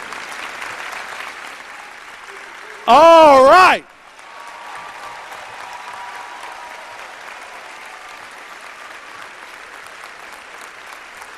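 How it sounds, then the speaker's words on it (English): An audience at a State of the City address applauds schoolchildren, steady clapping broken briefly by a loud, close voice speaking over it before the clapping continues at a moderate level. "Let's applaud those children."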